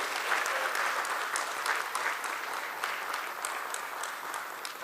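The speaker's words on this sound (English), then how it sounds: "Could we have a huge round of applause, ladies and gentlemen?" Sustained audience applause at a company stock-listing ceremony, even and moderately loud from start to finish with no speech on top.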